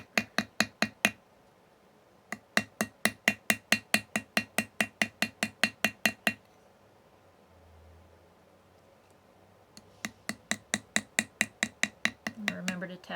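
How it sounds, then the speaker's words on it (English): A hammer taps the flared edge of a tube rivet in quick, evenly spaced metallic strikes, close and crisp. Runs of rapid taps are separated by a pause of several seconds. "And then I still like to switch over to a hammer"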